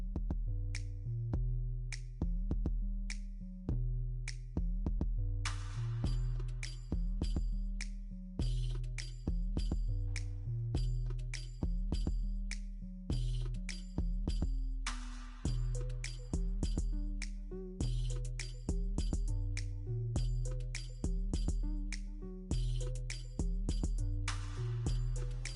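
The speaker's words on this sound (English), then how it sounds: "I know you're wondering why I'm clapping." A person claps their hands in a steady, regular rhythm of sharp, close smacks, continuing for about twenty-five seconds over quiet background music, with no talking.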